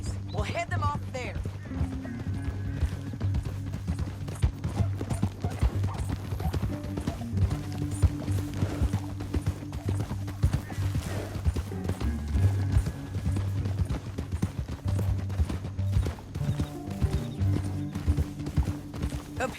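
Horses gallop in the Western video game Red Dead Redemption 2, their hooves drumming in a steady fast clip-clop under an engine hum and music, with voices talking over the ride.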